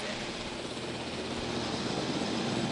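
Helicopters flying in the video game Jurassic World Evolution, a steady broadband rotor and engine drone that holds at an even loudness throughout without a break.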